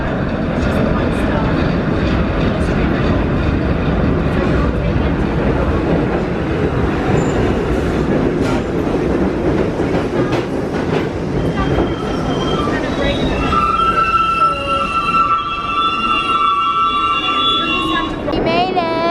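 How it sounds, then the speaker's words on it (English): A New York City subway train rides along with a loud, continuous rumble and rattle of the car. In the later part, high squealing tones from the wheels or brakes rise above the din. "So we are riding the subway down to Rockefeller Plaza."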